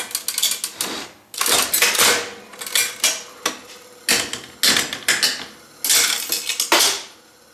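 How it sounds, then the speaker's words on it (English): The handle of a 1930s Pace Comet front-vendor slot machine is pulled repeatedly, each pull giving a sharp mechanical clack and a rattling, ratcheting whir as the lever pushes a nickel into the rotating disc. The sounds are close and loud, with no talk. "Pulling the handle will cause this lever to push the nickel down into that rotating disc."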